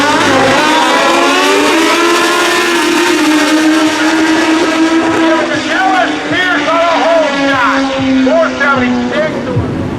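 Pro drag bike motorcycles launch down an eighth-mile drag strip, engines screaming loud and high with rising, shifting pitch throughout, and an announcer talks over the noise.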